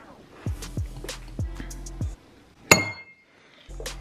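Glass clinks and knocks while hot sauce is being made in a kitchen, several dull taps in an irregular rhythm, then one sharp bright ping, with quiet pauses between and no talk.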